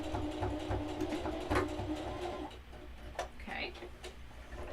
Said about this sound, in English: And I'm just going to sew it down.